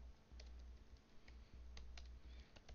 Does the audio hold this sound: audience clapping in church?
no